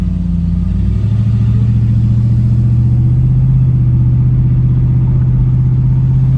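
A 1991 Mercury Grand Marquis engine runs smoothly, a loud, steady low rumble with a slight shift in pitch early on as the transmission changes gear, then an even drone with no other sounds.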